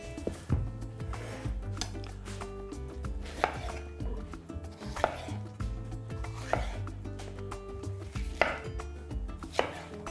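A knife chops sweet peppers into coarse pieces on a board, sharp irregular thuds repeating in bursts with brief pauses, close and clear with no talking.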